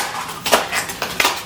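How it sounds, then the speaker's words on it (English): A cat scratching at a cardboard box on the floor indoors, several quick rough scraping bursts close to the mic, with no talk over them. "That's my cat scratching at a box."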